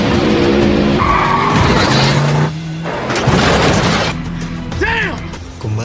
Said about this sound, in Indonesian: Jensen pun langsung memacu mobilnya.